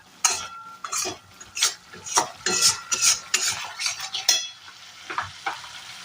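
Powdered spices and ginger for a vegetarian jackfruit kofta curry are fried and stirred in a pan, giving a close run of rhythmic scraping strokes over a light sizzle.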